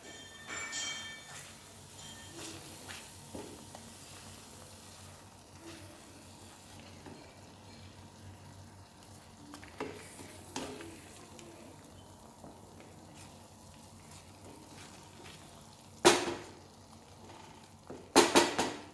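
A spoon stirs paneer butter masala gravy in oil in a pan, a faint low sizzle running throughout with soft scraping strokes and a few sharp clinks of utensil against metal near the end. Nobody speaks.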